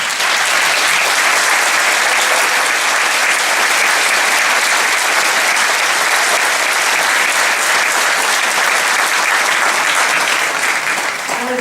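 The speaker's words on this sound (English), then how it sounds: "So if you'd all stand, and students, give a cheer" A graduation audience applauds and cheers without pause, a dense, loud, steady roar of clapping from a large crowd.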